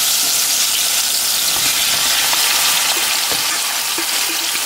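Sliced potatoes and onion with peppers hiss and sizzle loudly in hot oil, a dense continuous frying crackle with scattered pops.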